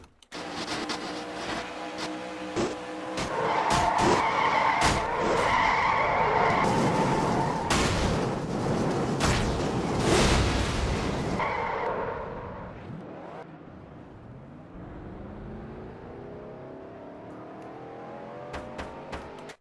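Race car skidding and spinning out, heard from an in-car camera: tyre screech and loud engine roar surge in the middle, then fade to a quieter engine hum with scattered knocks.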